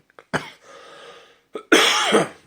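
Two bursts of coughing, a short harsh cough followed by a louder, longer one with a rasping throat sound, close by, with a quiet pause between.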